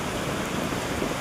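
Heavy monsoon rain pours in a brief, unbroken, loud hiss, close and steady throughout.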